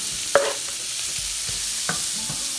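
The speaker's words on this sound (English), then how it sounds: "So she's going to put the onions first and let those cook a little bit" Onions cook in a pan for a crawfish dish, giving a soft, even sizzle with a couple of brief scraping stirs, no voices.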